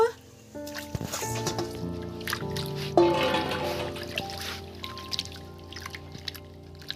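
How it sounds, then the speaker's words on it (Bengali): New-season potatoes being washed in water, with trickling, pouring and splashing sounds that come in close bursts and then ease into lighter dribbles and drips. "এই এই সিজনের আলুগুলো ভালো করে ধুয়ে নেব"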